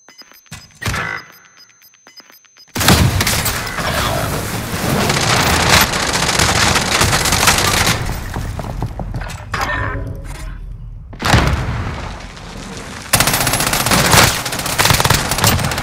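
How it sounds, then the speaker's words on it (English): Bursts of close automatic gunfire in Call of Duty Modern Warfare start after a near-silent opening with a few faint taps, then run as long loud volleys broken by short gaps and renewed fusillades. "Who's shooting me?"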